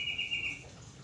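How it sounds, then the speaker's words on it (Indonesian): Birds chirp cheerfully in the morning, a brief bright run of calls that fades halfway through, fairly faint over a low background hum. "seiring dengan burung-burung yang sedang bertasbih, yang sedang berkicau dengan cerianya"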